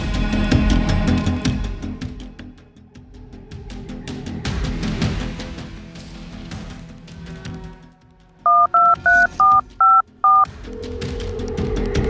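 A telephone keypad beeps out six quick dialing tones, clear and evenly spaced, as someone calls the police; dramatic background music plays before and after the dialing.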